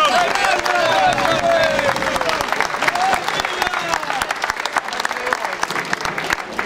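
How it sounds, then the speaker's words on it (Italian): An outdoor crowd at the Saint George festival in Martone breaks into loud, dense applause mixed with cheering and voices, with sharp claps close by that continue for several seconds. "Un applauso per San Giorgio, un applauso."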